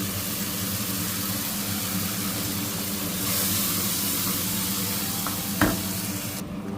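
Chopped onions and ground spices fry in a pan for dhaba-style daal dhokli, a close, steady sizzle with a surge partway through and a sharp clack of a utensil near the end.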